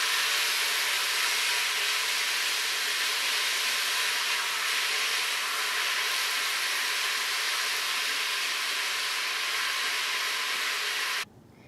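Ground beef browning in a Crock-Pot Express pressure cooker, a steady loud hiss and sizzle that carries on evenly for about eleven seconds before cutting off abruptly.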